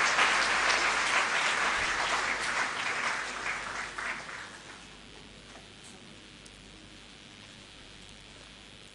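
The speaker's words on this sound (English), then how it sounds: "Shall we give another resounding applause to all our honorary awardees," Audience applause, loud and dense at first, then thinning and fading to a softer patter over the last few seconds.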